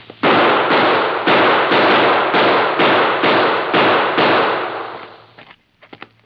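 About nine evenly spaced loud gunshots ring out in a steady rhythm, each with a short decaying tail, followed by a few fainter scattered shots at the end.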